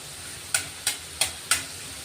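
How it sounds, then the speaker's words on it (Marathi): Chopped garlic sautéing in a pan for a peanut amti curry, a soft sizzle underneath four sharp, evenly spaced scraping knocks from a spoon stirring against the pan. "तोही आपण आता मस्त परतून घेतोय"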